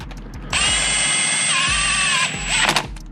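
On a Ford Fiesta, a small impact wrench runs down the oil pan bolts in one loud, sustained high-pitched whine lasting about two seconds. Quick rattling bursts and clanks follow it, and there is no speech.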